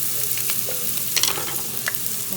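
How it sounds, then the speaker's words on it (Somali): Tomatoes poured into a hot pot for a mixed vegetable dish hiss and sizzle steadily, with a few stirring scrapes and clinks over the constant frying noise. "digsigan kor tagay dabkan yaanyada ku shubanayaa"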